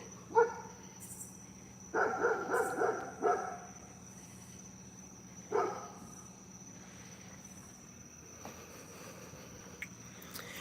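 A dog barks indoors in a few separate bursts, with a quick cluster of sharp barks and then a single later one, set against a steady background hum and some quieter noises between the barks.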